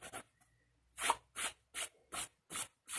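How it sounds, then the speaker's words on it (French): A rubber eraser rubs out pencil marks on paper in six quick, close strokes after a brief scratch, each a short soft rasp separated by pauses, with no talking. "Maintenant, je vais bien gommer tant que j'ai pas tout qui est au milieu."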